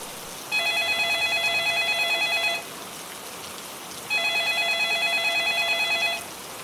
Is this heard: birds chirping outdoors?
no